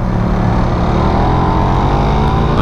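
A Suzuki Raider 150 motorcycle engine revving hard at high rpm, a loud, continuous buzzing whine that climbs steadily in pitch, close and unbroken, with no talking.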